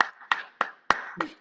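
Five sharp hand claps land in an even rhythm about a third of a second apart. They are close and fairly loud, with a hint of room ring after each one and no talk over them.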